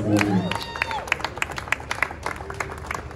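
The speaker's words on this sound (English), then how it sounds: "Everyone, put your hands together for him." Guests at a 50th birthday celebration applauding the celebrant, sharp scattered claps over a murmuring crowd with a voice speaking at the start and some cheering mixed in.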